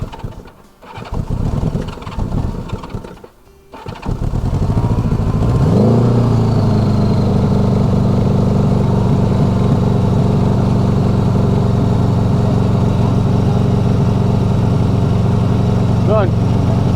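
A small engine, fresh from a carburetor rebuild, cranks with a few uneven bursts and then catches at about four seconds, settling into a steady, loud running idle that holds close up for the rest of the clip.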